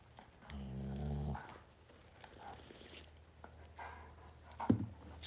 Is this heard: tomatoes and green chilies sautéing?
no